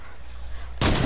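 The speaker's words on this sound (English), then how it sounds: "I shot him from 52 with my deagle." A Desert Eagle pistol shot in Fortnite: quiet game ambience, then one sudden loud, sharp blast that rings on to the end.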